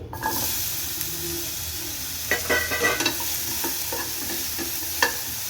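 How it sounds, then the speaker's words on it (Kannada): Tomatoes fry in a pan for a horse gram curry, a continuous close sizzle with a cluster of scraping, stirring clicks midway and another near the end, no voices. "ಟೊಮೊಟೊನ ಫ್ರೈ ಮಾಡ್ಕೊತೀನಿ"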